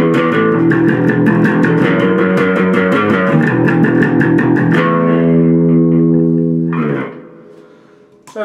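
Stagg BC300 electric bass played through light reverb and a little drive: a quick run of plucked notes gives way to a long sustained ringing tone, loud and close, ending with a short low thump.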